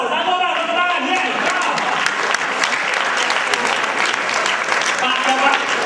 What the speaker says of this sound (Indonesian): Wow, satu orang, tepuk tangan